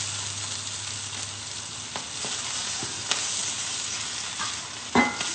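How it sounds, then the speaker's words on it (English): Spinach and sea spinach stir-frying in a pan, a continuous soft sizzle with occasional light stirring taps and scrapes. "Almost like a little stir fry, really."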